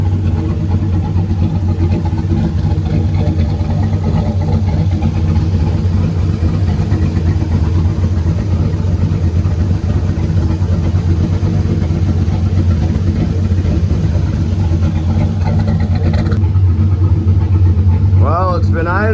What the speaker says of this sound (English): Well, it's been idling probably like 20-30 minutes.